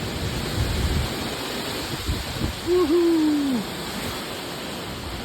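Hurricane Ian wind and rain roar outdoors in a steady, dense wash of noise. A brief whooping voice cuts through for about a second midway.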